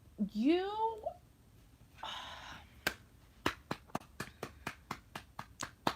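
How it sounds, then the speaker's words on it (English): One person claps steadily, about a dozen crisp, close hand claps in an even rhythm, following a few brief vocal sounds. "I'm clapping for you"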